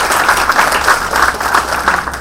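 A seated audience at a career showcase event bursts into steady applause for a trainer's introduction, a dense, even wash of many hands clapping at once, moderately loud and continuous.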